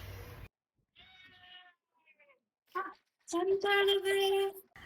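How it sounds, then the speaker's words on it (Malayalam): A house cat meows several times in a quiet home in Kerala, with short drawn-out cries separated by pauses and the loudest, longest meow near the end. "എന്റെ പൂച്ച ഉണ്ടായിരുന്നു അവിടെ."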